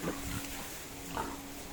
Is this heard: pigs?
yes